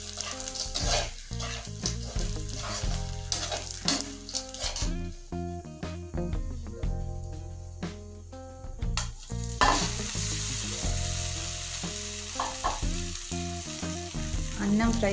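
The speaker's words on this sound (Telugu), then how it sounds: "వేయించిన పల్లీలు అలాగే ఉడికించిన అన్నం వేసి బాగా ఫ్రై" Coconut rice with roasted peanuts and cooked rice is stir-fried in a pan: a loud sizzle broken by repeated scraping and clattering strokes, with tonal sounds in the background.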